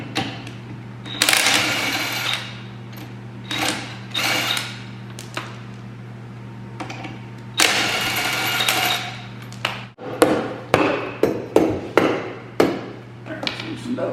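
Tools clatter while a 50-pound wheel weight is removed from a John Deere 1025R tractor: bursts of ratcheting and metallic clanks, then a rapid series of sharp knocks, over a steady low hum.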